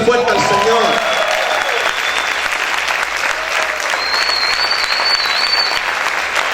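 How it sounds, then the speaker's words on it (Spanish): A church congregation applauds loudly and steadily, a dense wash of clapping with cheers and voices rising over it throughout. "¿Cuántos pueden aplaudir fuerte al Señor?"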